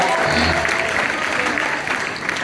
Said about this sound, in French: On peut l'applaudir puissamment, frère et sœur